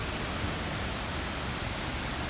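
Rushing waterfall running fast after recent rain, a steady dense roar of water that holds even and unbroken throughout, with no voices over it.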